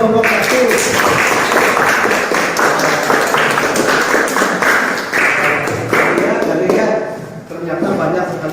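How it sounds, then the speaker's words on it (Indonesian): Applause in a classroom-style group session for a student group, a crowd of claps rising and fading at close range with some sharper taps, and voices talking over it at times. "Tepuk tangan untuk kelompok 1"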